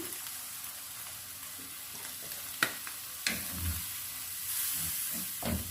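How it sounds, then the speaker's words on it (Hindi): A cup of milk is added to fried spinach that has been sautéed until it releases oil, for a palak chicken dish. The sound is a soft hiss and sizzle with a few sharp clatters, then a rising bubbling wash, all close with no voices. "अब ये 1 कप दूध है, मैं इसमें शामिल कर दूंगी।"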